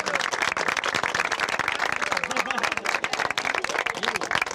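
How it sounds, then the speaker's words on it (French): A crowd on a beach applauds, a busy patter of many hands clapping steadily and close, with voices mixed in underneath. "On l'applaudit."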